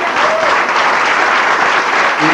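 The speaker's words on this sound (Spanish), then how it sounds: "Damos un aplauso al Señor." A church congregation applauds at a Spanish-language service, dense steady clapping filling the room loud and close, with a faint murmur of voices toward the end.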